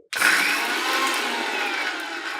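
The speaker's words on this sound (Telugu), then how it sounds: "తర్వాత ఈ పొట్టుని జార్లో పెట్టేసి మిక్సీ వేసేసేయండి" Mixer grinder blending ridge gourd peel with cumin and salt, starting abruptly from silence into a loud, steady high-pitched whirring grind that holds without pause, with no talk.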